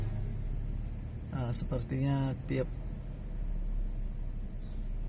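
Steady low traffic rumble of cars and engines idling and creeping in a traffic jam near a bridge construction site, continuous throughout, with someone speaking briefly over it partway through.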